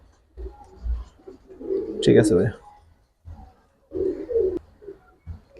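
Soft, low Giribaz high-flyer pigeon coos come and go amid close conversation, with one brief sharper burst of sound in the middle.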